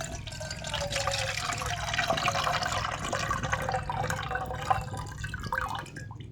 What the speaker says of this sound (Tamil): நல்லா வடிகட்டு.